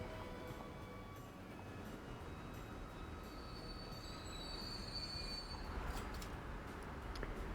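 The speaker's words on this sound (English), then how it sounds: "Literally a Maniac Tram trying to move at the exact same speed." Tram moving in the video game Transport Fever 2, a continuous rolling rail rumble with a high wheel squeal rising partway through, fairly faint and with no talking.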